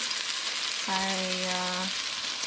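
A homemade hamburger patty frying in a pan on a medium-low stove setting, a steady close sizzle with a brief humming tone rising over it partway through, no speech.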